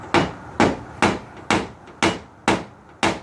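Seven evenly spaced, sharp hammer-like taps strike the thick steel body panel of a 1983 Trans-Am during paintless dent repair. Each tap rings briefly and close up before a short decay.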